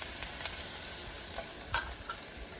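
Ginger garlic paste fries in olive or cooking oil for baigan bharta, a soft steady sizzle with a few light stirring clicks and scrapes, close and alone.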